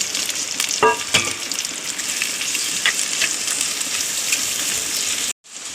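Onion, ginger, garlic, green chilli and leaves sauté in hot oil for a fish curry, producing a loud, steady sizzle with a few sharp stirring scrapes before the sound cuts off abruptly near the end.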